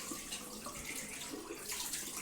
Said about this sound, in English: So I'm going to wash to get rid of all the dirt off. Wash it with runny water.